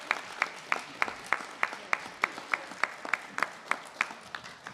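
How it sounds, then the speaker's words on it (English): An audience at a governor's event on K-12 education gives a first-grade teacher a round of applause: a soft, steady patter of clapping with regular sharp claps standing out, moderately distant and without talk. "First grade, please clap for Bridget Kozorowski."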